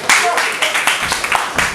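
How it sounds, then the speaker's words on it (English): A live industry networking event crowd bursting into applause for its sponsors, a close, lively burst of many hands clapping with a few sharp individual claps standing out and some voices mixed in. "Give them all a round of applause."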